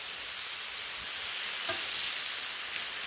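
Pork stir fry sizzles steadily on a Blackstone griddle, a constant bright crackling hiss with a brief clink of a utensil partway through.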